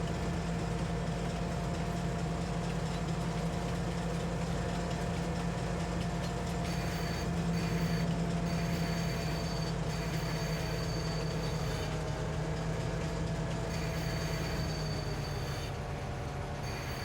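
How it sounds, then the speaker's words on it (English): A train in Farming Simulator 22 rolls past with a continuous loud rumble, a droning low engine hum and a steady rhythmic clatter of wheels, with faint high squeals drifting in and out throughout. "Alright, the train"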